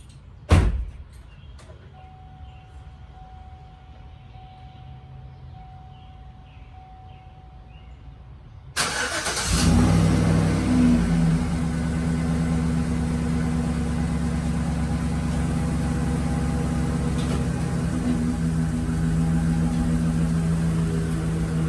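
A Chevrolet Silverado pickup fitted with Bilstein 5100 shocks: a door thuds shut, a quiet pause follows, then the engine starts and settles into a loud, steady, close idle.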